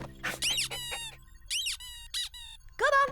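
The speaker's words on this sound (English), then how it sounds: "come and fetch the squeaky ball" A squeaky rubber ball toy gets squeezed again and again, giving sharp, loud squeaks in uneven bursts with short gaps between them; no voices.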